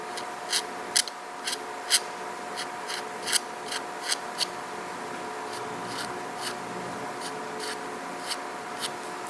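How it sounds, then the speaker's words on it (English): A small handheld deburring tool scrapes along a machined metal edge in short, irregular strokes. The scratches are close and moderately quiet over a faint steady hum, with a few sharper scrapes standing out. "I'm going to use this little deburring tool here just to scrape this edge"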